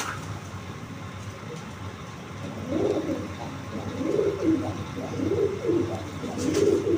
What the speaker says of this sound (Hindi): टैटी कबूतर आपको दिखा रहे हैं जी